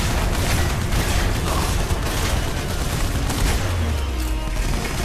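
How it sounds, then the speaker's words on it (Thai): Dense, continuous booming and crackling of repeated grenade explosions and gunfire in the PC game Terminator Salvation, loud and unbroken throughout. "ระเบิดไปอีกลูก"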